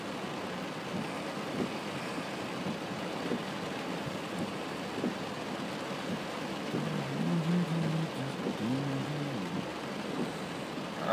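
Steady rain hisses continuously, with a low rumble underneath, no voices.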